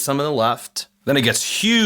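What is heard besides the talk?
No distinct noise like a dog, phone or traffic.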